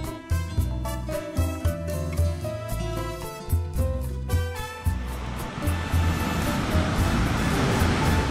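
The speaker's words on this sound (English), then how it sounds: "I think we can start to hear the ocean" Steady roar of Pacific surf washing in at Zipolite beach, Oaxaca, Mexico, building to a broad hiss, with rhythmic low thumping and tones in the foreground at first.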